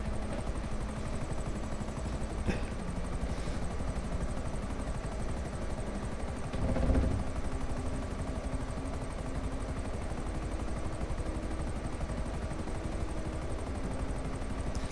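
Helicopter in GTA Online, a steady rotor-and-engine drone running continuously at moderate level with a brief louder swell near the middle, no voices over it.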